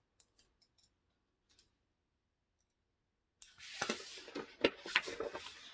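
Paper pattern for a culottes skirt being cut with a craft knife to punch holes at the dart ends: a few faint, sparse ticks first, then a close, louder burst of rough scraping and crisp cutting snips.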